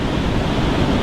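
Choppy water with plenty of current produces a loud, constant broadband wash of churning waves that fills the whole moment, with no one speaking.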